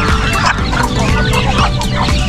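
Hens cluck repeatedly in a nesting box, loud and close, with overlapping choppy calls in an uneven rhythm.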